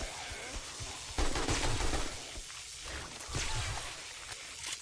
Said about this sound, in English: AK, very effective weapon, as you can see.